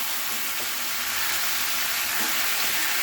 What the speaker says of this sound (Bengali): এইভাবে নাড়িয়ে নিতে হবে বারবার ধরে। নাড়িয়ে যাচ্ছি।